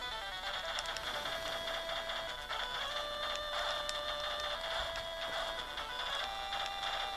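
Operation C gameplay music and effects played on a Nintendo Game Boy Pocket, a continuous thin, bright chiptune stream of bleeping melody and noisy percussion, steady and fairly close without speech.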